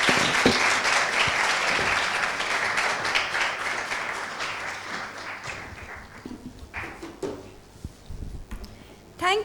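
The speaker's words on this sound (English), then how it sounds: "please a round of applause for all of these wonderful people" Audience applause for a panel on PR and celebrity at a media festival, clapping loud and dense at first, then thinning into scattered individual claps as it fades.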